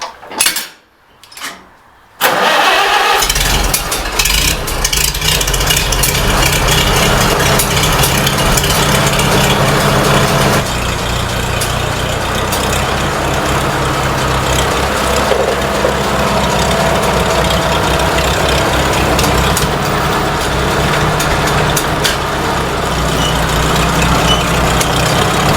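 An old H tractor on a small farm cranks briefly with a few sputters, then catches and settles into a steady, loud, close idle that runs without a break, with a faint metallic rattle riding on the rumble.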